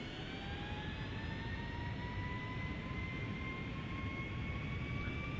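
Boeing 757 jet engines spool up on the runway in Flight Simulator X, a continuous loud roar with whining tones rising steadily in pitch, with no voices.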